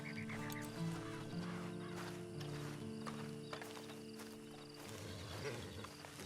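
A horse in the Red Dead Online video game, with clip-clop hoofbeats and a brief whinny over a busy game soundscape of background music and ambient noise, steady and moderately loud throughout.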